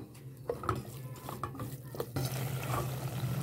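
Khoya, semolina and sugar cook together for Pakistani makhandi halwa while a spoon stirs the thick mixture, making soft scrapes and clicks over a quiet low hum, with a faint steadier sizzle toward the end.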